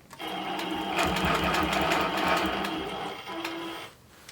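A long arm quilting machine stitches custom quilting along a ruler in a fast, steady mechanical whir that runs for about four seconds. It is close and continuous, then stops abruptly.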